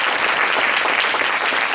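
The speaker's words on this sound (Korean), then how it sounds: "그럼에도 불구하고 이렇게 잘 예배를 인도해준 데뷔한 이랑의 형제와 찬양팀을 위해서 또 박수 한번 주시고요." Church congregation applauding for the worship team during a Sunday service in Auckland, a steady dense clapping from many hands filling the room without pause.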